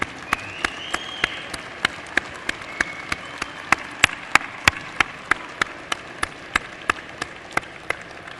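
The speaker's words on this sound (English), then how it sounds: "Give your parents, your loved ones, your siblings, your aunts, uncles, a big round of applause" At a university convocation, people applaud parents and loved ones with crisp, evenly spaced claps that ring out one after another over a low hall murmur, steady and fairly sparse throughout.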